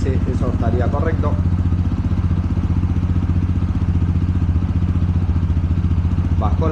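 A TVS RTR 200 FI motorcycle idles with a steady, rapid low thump, running close and constant throughout, with brief bursts of a voice speaking over the engine early on and again at the end.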